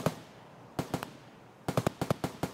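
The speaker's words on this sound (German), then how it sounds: "da hinten wird tatsächlich noch geschossen" Distant gunfire in Escape From Tarkov: sharp cracking shots in two bursts, a cluster of four, then a quick run of about seven, popping over a quiet hiss.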